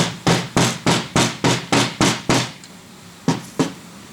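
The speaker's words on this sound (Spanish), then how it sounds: "la entraremos con un martillo, picaremos hasta que nos llegue abajo" Hammer strikes driving a part into a plastic piece while assembling a Formbytes One, nine sharp evenly spaced blows in a steady rhythm, then a pause and two more hits, close and loud with no talking.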